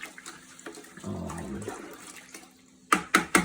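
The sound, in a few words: water pouring into a container for coffee dye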